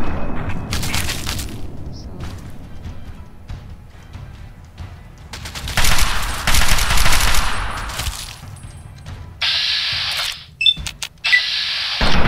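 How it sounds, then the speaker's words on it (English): Gunfire from a Chinese assault rifle in Fallout 3, loud bursts of automatic fire with booming hits, mixed with other game noise and mechanical sounds. "I'm gonna switch to the assault rifle."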